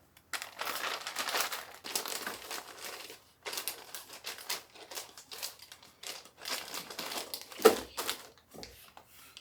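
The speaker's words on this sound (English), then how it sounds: "I'm just going to drop them in this gallon size Ziploc bag overnight." Freeze-dried banana pudding bites are dropped into a gallon-size Ziploc bag, making crinkly plastic rustles and light rattling in uneven bursts, close and moderately quiet, with brief gaps.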